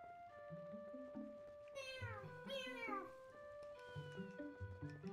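Cat meowing in The Legend of Zelda: Twilight Princess on GameCube, several drawn-out rising and falling meows in a row, close and clear over a steady musical backing of soft tones.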